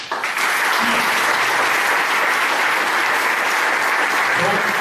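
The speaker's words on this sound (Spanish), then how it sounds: "pedirle un fuerte aplauso a ustedes para mis compañeros" Sustained, dense applause from a salsa concert audience in Manizales, Colombia, cheering an orchestra; loud, steady clapping that fills the whole stretch without letting up.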